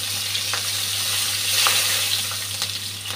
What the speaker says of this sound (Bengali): তেজপাতা দিয়ে দিচ্ছি, কাঁচা লঙ্কা দিয়ে দিলাম, 5 ফোড়নটাও দিয়ে দিলাম